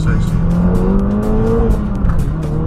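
Ford Focus RS hatchback, 350 horsepower, launching from 0 to 60 with its engine rising in pitch through the gears, loud and close inside the cabin while someone speaks over it.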